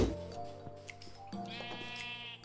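Sheep in Minecraft bleat several times, short game-sound baas close by, with one rising, drawn-out bleat near the end.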